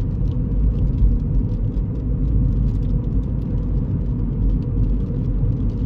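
Steady engine rumble and road hum from a Mini Cooper cruising at about 30 mph, heard from inside the car: low and continuous at an even loudness throughout, with no talking.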